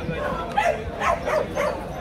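A Vietnamese Bac Ha shaggy dog barks a few times during a breed-certification judging, giving short, moderately close yips and barks over steady crowd and background noise.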